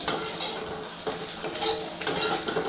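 Tomato frying with salt in a pan, a steady close sizzle broken by scraping stirs and light metal clinks of a utensil against the pan, with no talking.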